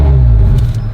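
An ABT-tuned Audi RS3 engine in dynamic mode rumbles loudly and steadily, a deep low exhaust growl with a slight rise as the throttle is lightly pressed to about 2000 rpm, close by.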